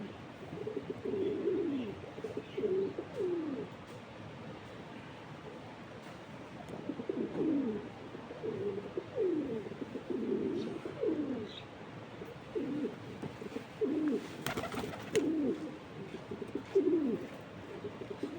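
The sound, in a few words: pigeons cooing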